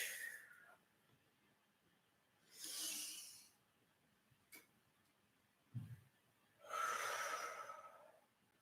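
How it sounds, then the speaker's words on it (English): Slow breaths during a yoga session come as soft, separate airy swells, one drawn-out inhale and a few shorter breaths and sniffs, close and quiet against near silence. "Inhaling up nice and slow on your own breath"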